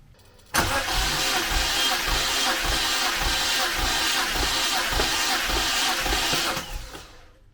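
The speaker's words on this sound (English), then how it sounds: "I'm gonna give it 10 cranks." A turbocharged BMW E36 engine cranks on the starter for a compression test, about ten rhythmic turning pulses under a loud steady whirring hiss that cuts off after around six seconds.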